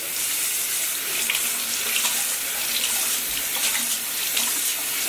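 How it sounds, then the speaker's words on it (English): Steady tap water runs over a makeup brush being rinsed at a sink, a constant loud hiss and splash without a break throughout. "I'm going to rinse this off, see how much more scrubbing I need to do"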